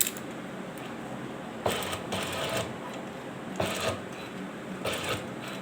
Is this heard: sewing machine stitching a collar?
yes